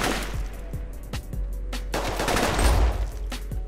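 Pistol gunfire in the isometric tactical shooter game Operation Valor, a string of sharp individual shots at irregular intervals over a low game background rumble, with no speech.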